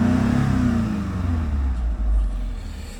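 A 1998 Mitsubishi Chariot 2.4 GDi engine, running rough with two cylinders dead, revs up and falls back in a close, steady mid-pitched drone.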